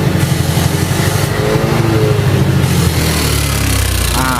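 A Yamaha Aerox scooter engine running rough, a harsh uneven throbbing idle with a brief rev near the end, loud and close with no talking.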